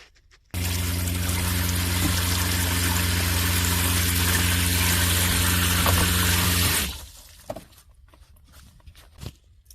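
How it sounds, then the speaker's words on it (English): A steady rush of water poured into an RV toilet flows continuously for about six seconds over a low hum, then stops abruptly, leaving a few light knocks. "And I'm also going to put some water down my toilet."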